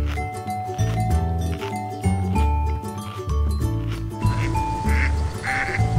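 Ducks quack among toy farm animals while bright, steady background music plays throughout, the quacks mixed in with the tune and no one speaking.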